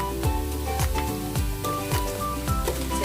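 Onion and garlic sizzling in a hot pan while cooking pansit bihon, a steady crackling fry punctuated by regular stirring scrapes, close and continuous with no talk.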